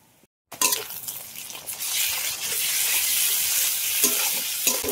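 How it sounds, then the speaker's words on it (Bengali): Ginger-garlic paste hits hot oil after fried onions in a pan for mutton curry, bursting into a loud sizzle after a brief silence, then a steady close frying hiss with scraping stir strokes and light metallic clinks. "এখন আদা রসুন বাটা দিয়ে দেব।"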